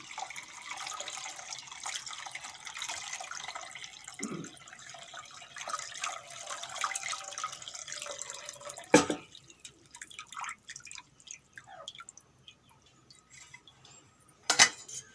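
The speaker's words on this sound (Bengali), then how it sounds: "এখন এর উপরে ঠান্ডা জল দিয়ে দেবো" Cold water runs and drips over boiled egg noodles in a kitchen, a soft steady trickle broken by a few clanks of dishes and utensils, close by with no talking.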